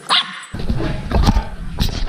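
A dog barks inside a motorcycle workshop, several sharp, close barks in quick succession over a noisy indoor background.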